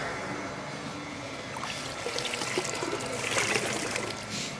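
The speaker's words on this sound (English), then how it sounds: "I'll go ahead and I'll get the wash mitt wet." A car wash mitt being soaked in a bucket of rinse or soapy water: continuous sloshing and trickling, fairly close, swelling into busier splashing near the end.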